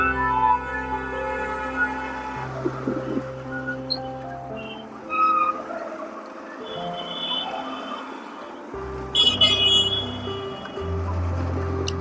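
Overlapping vehicle horns honk in long, sustained tones over a steady engine rumble in a road traffic jam, with some horns cutting out and others starting.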